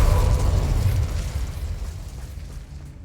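Confringo blasting spell explosion in Hogwarts Legacy, a loud deep burst at the outset that rumbles and slowly decays over a few seconds, with no talk over it.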